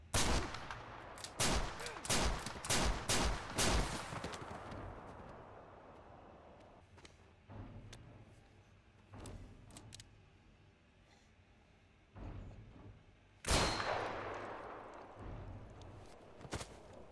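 Gunfire from a Western film scene as an outlaw guns down a man and his gang: a rapid burst of loud shots early on, then scattered single reports and a final heavy blast amid quieter action.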